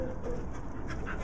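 Dogs panting in quick, steady breaths close by, keeping up through the whole short stretch with no talk over it.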